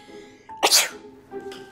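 A single loud sneeze bursts out close by, a short breathy explosion preceded by a quick intake, with a quieter sniff afterward.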